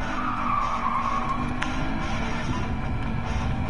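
Car engine roaring with a sustained tire skid in the Battlefield Hardline Hotwire multiplayer match on PS4, loud and continuous with a brief sharp squeal midway.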